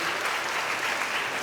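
An audience at a smart-parenting class claps, a dense, even wash of many hands applauding continuously for a brief moment.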